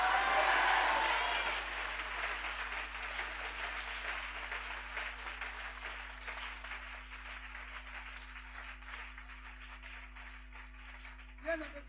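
A church congregation applauding to acclaim the Lord, a loud burst of clapping at first that eases into steadier, lighter applause with a low hum underneath.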